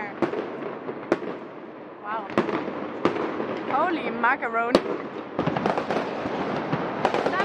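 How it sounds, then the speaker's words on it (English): New Year's fireworks burst in repeated loud bangs and crackling volleys, some with rising whistles, close by and nearly continuous, while people exclaim over them. "Somebody spent a lot of money on fireworks here."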